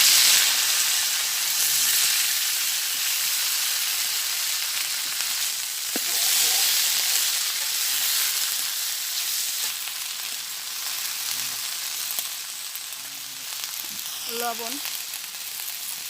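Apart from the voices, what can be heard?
greens (elancha shak) frying with garlic in oil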